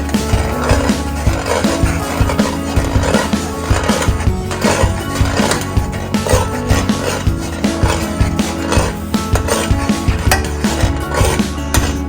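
A spoon stirring peanut and oats porridge with cinnamon in a pot, continuous scraping and knocking in a busy rhythm, close and loud, with no talking.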